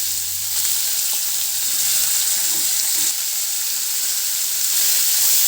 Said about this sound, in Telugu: నూనె వేడయ్యాక కాల్ టీ స్పూన్ ఆవాలు కాల్ టీ స్పూన్ జీలకర్ర ఈ చిట్టపట అనే లోపల మీడియంగా తరిగిన రెండు ఉల్లిపాయలు